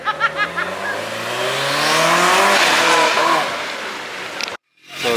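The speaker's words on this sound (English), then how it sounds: "Let's hear the Boxer engine." Boxer engine of a Subaru hatchback with a livery, heard in a parking lot at a Singapore night car meet: a rising rev with a climbing whine that swells to a loud, sustained peak before easing off, then a brief cutout and restart.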